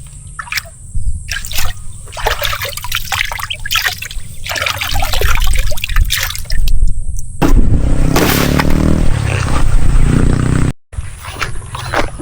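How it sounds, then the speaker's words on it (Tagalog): A small stream of water trickles and flows steadily close by on farmland in Bulacan, with a broader rush of water rising louder near the end. "Mga ganitong batis, pwede itong mainuman, pangtawid uhaw."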